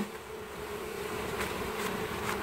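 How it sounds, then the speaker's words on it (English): A swarm of bees buzzing inside a hive, a steady close drone of many wings, moderately loud and unbroken, with no talking. "all the bees are in the bottom of the hive now."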